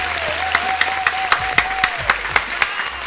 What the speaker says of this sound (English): let's everybody clap it up and give a round of applause for DasEFX!